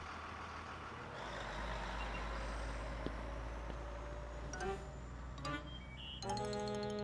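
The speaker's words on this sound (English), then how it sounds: "the big yellow school bus that drove down his street" A big yellow school bus rumbles low and steady in a children's cartoon. Faint chimes and a brief beeping tone come near the end, and there is no talk.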